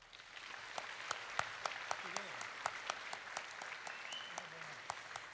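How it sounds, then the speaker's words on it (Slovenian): Audience applause for the performers at a school New Year concert, fairly faint, with distinct individual claps over a soft wash and a voice speaking underneath. "zato naj bo ta aplavz namenjen vsem skupaj, ki nastopajo"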